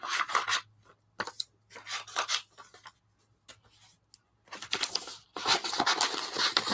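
Large scissors cut paper for a collage in a series of close, crisp snips and rustling bursts separated by short pauses, louder and denser toward the end.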